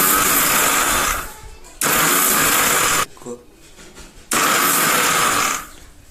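An electric blender is pulsed in short bursts to husk soaked ingredients, loud whirring runs of about a second switched on and off three times with quieter pauses between.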